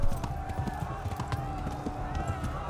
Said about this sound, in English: Gotta ride the horse.